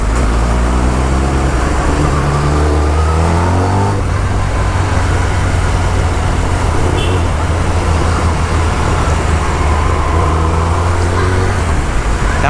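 Kawasaki ZX10R motorcycle engine roaring inside a tunnel, a loud continuous drone with rising revs and reverberant wash, steady throughout with faint voices beneath.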